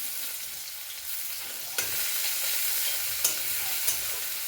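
Chopped onion and onion paste fry in hot oil for a fish curry, giving a steady sizzle with a few sharp stirring scrapes against the pan and no voices.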